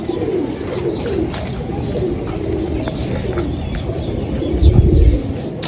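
Low, soft cooing from a competition flying pigeon repeats over a busy outdoor background, with a louder rumble near the end.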